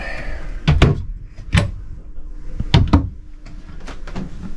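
Small cabinet door in a new RV's compact bathroom, shown at the 2023 Maryland RV show in Timonium, opened and shut several times with short sharp knocks and clicks, close by and without talk.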